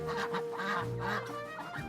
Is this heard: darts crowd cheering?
no